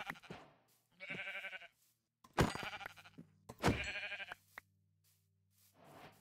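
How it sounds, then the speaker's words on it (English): Sheep bleat in Minecraft, three or four drawn-out nasal calls spaced by brief silences, clear and close with no talk over them. "Let's kill these sheep."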